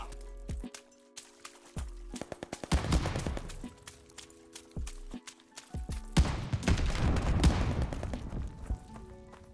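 Gunfire in Call of Duty: Vanguard during a Search and Destroy match with an STG rifle: loud bursts of rapid automatic fire split by short silences, with clattering shell and footstep sounds and game noise behind them.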